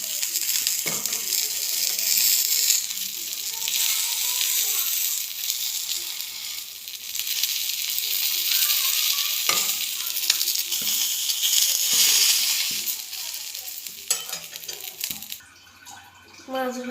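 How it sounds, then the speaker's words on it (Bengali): Fish frying in oil, a continuous bright hiss and crackle held close for a long stretch, with brief clatters and a quieter pause near the end. "মাছ ভাজা হয়ে গেছে"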